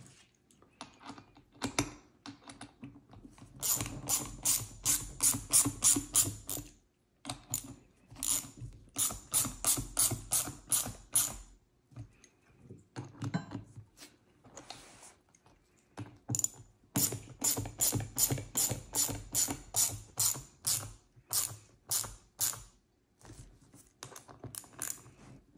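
A ratchet snugs bolts on an Indian Pursuit motorcycle's tour pack arm rest, with quick bursts of sharp clicking strokes separated by brief pauses, close and crisp in a quiet room.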